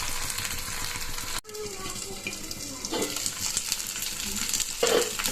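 Sardines frying in oil in a pan, a steady close sizzle running throughout, broken by a sudden brief dip and a few clinks and stirring scrapes as the fish is turned.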